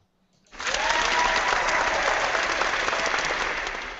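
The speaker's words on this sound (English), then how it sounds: "I hope I'm not embarrassing you for clapping for that." A church audience breaks into loud, dense applause after a brief quiet start, a sustained rush of many hands clapping that fades slightly toward the end.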